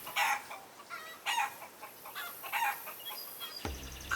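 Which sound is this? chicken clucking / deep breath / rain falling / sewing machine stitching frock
chicken clucking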